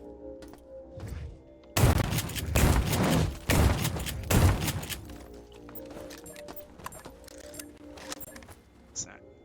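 Shotgun blasts in the System Shock remake, three loud booming shots fired about a second apart, each with a long rumbling tail, followed by quieter game clatter and a person talking.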